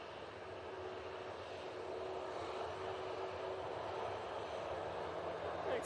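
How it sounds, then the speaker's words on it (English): A Ryanair Boeing 737-800 lined up on the runway at Manchester Airport gives off a steady, distant jet engine roar that builds slightly toward the end, with faint talk underneath. "Ryanair 737-800, now lined up, going to Cork."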